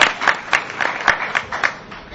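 Debate audience breaking into applause, a short burst of scattered claps with distinct individual hand strikes, moderately loud in a hall.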